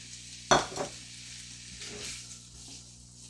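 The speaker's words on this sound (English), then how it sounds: "So I'm going to dump my onions and peppers in here with the bacon and let it all cook together." Onions and peppers drop into rendered bacon fat with a sudden loud hiss, then settle into a softer, steady sizzle with a few faint scrapes.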